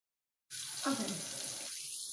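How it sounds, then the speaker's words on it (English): A kitchen water tap runs during baby food prep, a close, steady gushing hiss that starts abruptly and keeps flowing evenly to the end. "I don't know if y'all can hear me with the water running"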